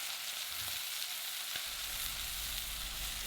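Beef browning in a cocotte pot over medium heat for beef bourguignon makes a close, continuous frying sizzle, with a soft low thump midway and no speech.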